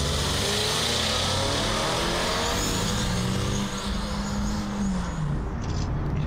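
A car pulls away on a race track at the start of a timed lap, its engine loud and close, revving up with rising pitch over heavy road and wind roar.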